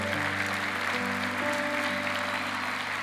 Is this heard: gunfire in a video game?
no